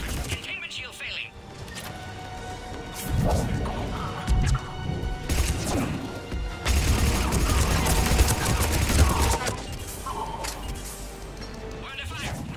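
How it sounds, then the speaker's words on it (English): Gunfire during combat in the video game Mass Effect, with dense, sustained bursts of shots and crashing impacts layered under loud battle noise and game character dialogue. "We're under fire."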